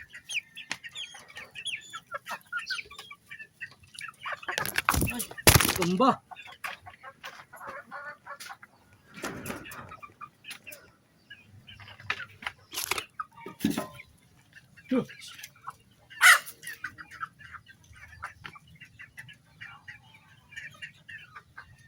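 Backyard chickens clucking and calling while being fed, with scattered near clucks, a couple of loud bursts, and someone talking intermittently over the flock.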